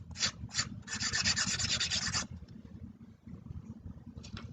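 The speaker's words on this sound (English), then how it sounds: "I'm just using my trusty Sharpies" Felt-tip Sharpie marker rubbing across a paper plate while coloring, heard as close, dry scratchy strokes: a few quick short rubs followed by a longer sustained scribble, then quieter intermittent strokes.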